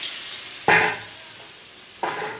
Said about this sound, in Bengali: আমি কড়াই একটু তেল দিয়েছি, এইটাতে একটু নেড়ে নেব